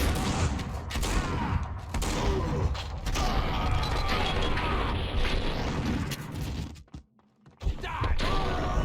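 Gunfire rattles through a shootout in the game Max Payne 2, loud dense bursts and thuds packed together nearly without pause, cut briefly by a near-silent gap before the shooting resumes.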